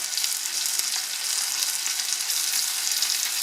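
Giant river prawns sizzle and crackle steadily in a hot frying pan seasoned with peppers and salt, a dense close-up hiss without pause or voices.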